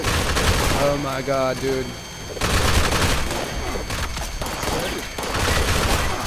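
Lobotomizer gun in a video game, spun up and firing in long dense volleys that break off briefly and resume, with a man exclaiming over the gunfire.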